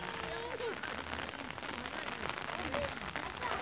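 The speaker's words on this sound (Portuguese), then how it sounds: "A chuvada tá boa aqui" Steady rain falls on a wet crop field at a farm in Tabira, Pernambuco, a soft, continuous patter close by, with faint bird calls through it.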